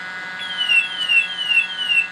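A gas detector alarm, an AFC BTS200DF bump test station, beeps in a repeating pattern of falling tones, about four cycles, steady and fairly loud over a faint constant hum.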